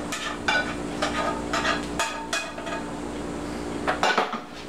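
Heated mixture being scraped from a pan onto rice in a pot: repeated metallic clanks and scrapes of a utensil against cookware, close and fairly loud, in uneven bursts with no talking.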